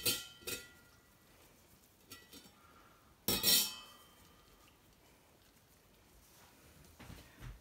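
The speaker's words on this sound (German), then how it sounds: "Also schön schon ein bisschen mit Gefühl reindrücken ins Glas." Green beans packed with savory are pressed by hand into a glass jar for canning, giving a few sharp glassy clinks and knocks with quiet gaps between them. No one speaks.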